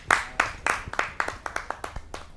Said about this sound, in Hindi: ये जोरदार तालियों से उनका स्वागत करते हैं।